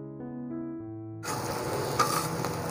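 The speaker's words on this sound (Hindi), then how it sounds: "घी गर्म हो गया नाज़रीन, अंडा डालते हैं इसके ऊपर" An egg hits hot ghee on a griddle and sets off a sudden, steady crackling sizzle that follows a few seconds of low tonal hum.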